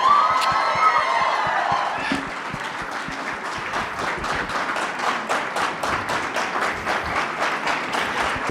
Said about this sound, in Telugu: ఒకసారి మళ్ళీ ఆ హర్షధ్వానాలు